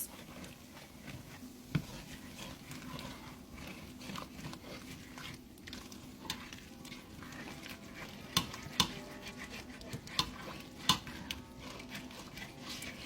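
A utensil scrapes browned bits from the bottom of a pot of Irish beef pot pie filling, with faint irregular scratches and soft sizzling, a few sharper clicks, all quiet and close.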